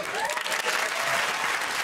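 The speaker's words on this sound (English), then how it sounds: "Let's retract that round of applause" Studio audience on a comedy quiz show bursts into brief, even applause, a dense wash of clapping that holds steady at moderate volume for a couple of seconds.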